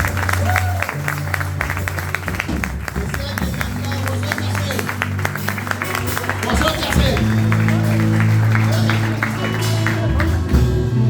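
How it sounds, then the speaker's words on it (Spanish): A church congregation applauds during a Spanish-language sermon, steady clapping under sustained music and a loud, continuous crowd wash that swells in the second half. "Si quiere aplaudir, aplaude"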